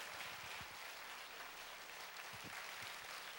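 Church congregation applauding a missionary as he comes forward, a steady wash of clapping with no voices above it, fairly faint and distant.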